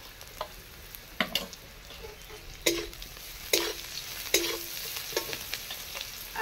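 Crushed garlic frying with chopped onion in a pan, a soft steady sizzle broken by several sharp spoon scrapes and knocks against the metal, close up with no talk.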